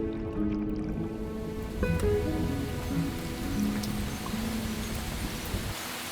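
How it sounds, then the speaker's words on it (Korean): Steady rain pours down on a dry stream bed in Jeju in summer with a continuous hiss, joined by scattered low tones and faint knocks in the background. "여름에 마른 땅을 적시는 비가 왔습니다."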